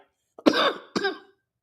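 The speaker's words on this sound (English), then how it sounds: "coughing all over my mic tonight." Two short, close coughs in quick succession into a microphone, loud and dry, then silence.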